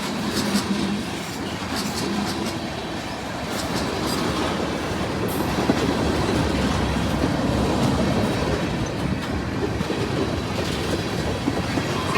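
A CSX mixed freight train rolls steadily past, with a continuous rumble, wheel clatter and faint squeals from the railcars, loud and close throughout.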